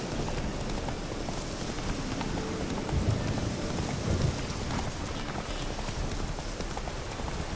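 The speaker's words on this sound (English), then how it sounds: "Rain." Steady rain falls in a video game (The Witcher 3), a dense even hiss throughout with a couple of brief low rumbles near the middle, no speech.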